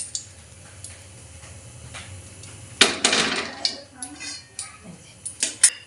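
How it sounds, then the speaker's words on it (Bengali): A spatula scrapes and clinks against a kadai of heating oil, with sharp metallic knocks arriving in an uneven rhythm, close by and moderately loud, while a voice talks quietly underneath. "এই যে সালাসিটা এইভাবে নাড়িয়ে দিচ্ছি যাতে পুরো তেলটা কড়াইয়ের মধ্যে ছড়িয়ে যায়"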